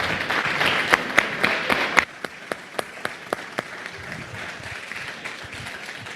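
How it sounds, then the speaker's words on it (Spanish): An audience applauds the panel of directors at a Conai Chile 2022 session, a dense burst of clapping that drops off after about two seconds into a handful of sparse, isolated claps. "le pediría un aplauso a cada uno de los directores"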